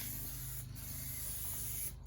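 A spray paint can sprays a car chassis rail on a Datsun 260Z in a steady, close, loud hiss lasting about two seconds, with a brief dip partway through.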